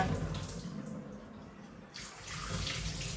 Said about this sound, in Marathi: एवढं प्रेशर नंतर प्रेशर टाका पाण्याचा